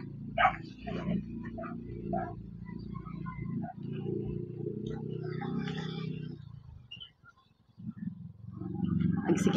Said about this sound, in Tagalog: Nag-aaway ng mga aso.